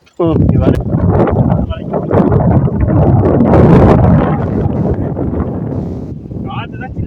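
Wind on a trek up Thoppaiyasamy hill buffets the microphone in loud, sustained rumbling gusts for several seconds, while people talk over it.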